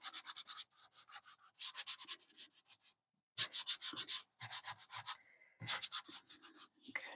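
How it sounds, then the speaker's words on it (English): Paper scrapbook embellishments being sanded by hand, quick rhythmic scratchy rubbing strokes in close bursts with short pauses between them. "I need to sand these. Let's do that first. Just kind of sand them a little bit."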